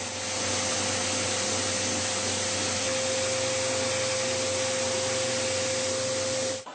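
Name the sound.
homemade 2x72 belt grinder cleaning up a knife bevel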